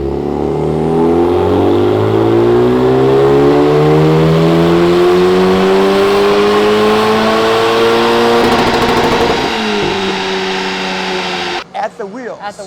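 A Honda Civic FL5 Type R with an AWE exhaust revs hard and loud, climbing in one long sustained pull, then dropping back before the sound cuts off near the end.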